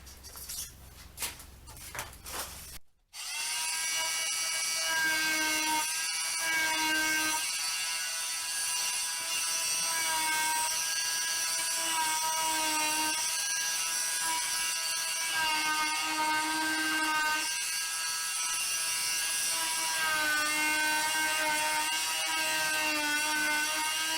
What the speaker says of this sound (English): here's my oscillating tool